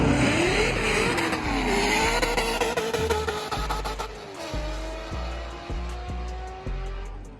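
A loud sports car engine revs hard, rising and falling in pitch, followed by several sharp throttle blips with popping bursts near the end.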